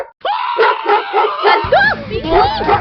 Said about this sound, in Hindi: बचाओ मुझे इस कुत्ते से